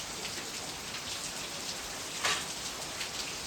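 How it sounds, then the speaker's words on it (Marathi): Heavy rain pours steadily outside a rural home, a dense, even hiss of falling water with a brief louder splash midway and no voices. "आणि भरपूरच पाऊस चालू आहे"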